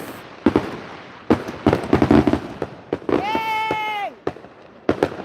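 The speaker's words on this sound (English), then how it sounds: "I'm a sucker for some good fireworks." Fourth of July fireworks burst outdoors in a string of sharp bangs and crackles, with a long whistling rocket tone partway through, while people cheer and talk nearby.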